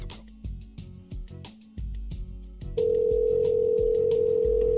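A telephone rings back through an earpiece: repeated tones give way to a long, steady tone, with a few faint clicks and bumps around it.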